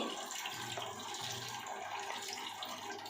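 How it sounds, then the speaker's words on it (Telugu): Water is tipped out of a cooking pot while a curry is prepared, giving a steady, close rush of pouring and splashing that runs throughout without pause. "దీంట్లో ఉండే నీళ్ళన్నీ కొంచెము ఇలా వంచేసుకుందాము."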